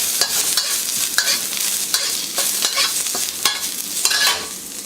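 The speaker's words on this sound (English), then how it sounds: "So I'm going to give that a quick stir fry for about 20 seconds." Ginger and garlic stir-frying in a hot wok for a Cantonese dish, a steady loud sizzle broken by repeated scraping strokes of the spatula at an uneven rhythm, close up with no voices.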